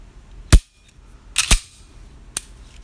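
CZ-USA P10S pistol fired at a shooting range: three sharp, loud shots spaced about a second apart, with a fainter crack near the end, no talk.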